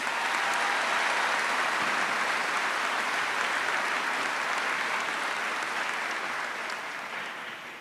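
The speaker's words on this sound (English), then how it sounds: "May we have a round of applause." A large crowd applauds at a high school graduation ceremony, a dense, steady wash of clapping that holds throughout and fades slightly toward the end.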